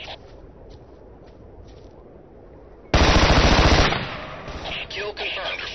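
A sudden loud burst of rapid automatic gunfire in the video game Tom Clancy's Ghost Recon, close and harsh for about a second, followed by scattered quieter shots over background game noise.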